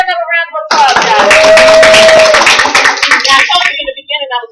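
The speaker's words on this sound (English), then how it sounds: "We'll give another round of applause" A loud round of applause from an audience at a live hair presentation in Owings Mills, Maryland, erupting after speech and thinning into scattered claps, with talking at the start and end and a voice cutting through mid-applause.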